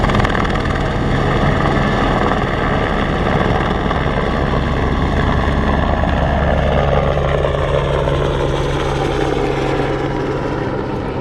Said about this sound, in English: And seeing this helicopter land on the beach on the way back.